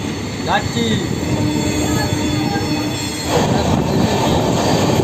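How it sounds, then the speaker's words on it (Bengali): The Dhauli Express rushes past Santragachi Junction at high speed with a loud steady roar, rattling wheels and a brief high squeal, close to the listener. "দেখতে পাচ্ছ ট্রেনের কিন্তু প্রচণ্ড স্পিড রয়েছে"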